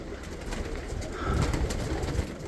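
Low, soft pigeon cooing rumbles close by over a faint hiss, swelling briefly in the middle.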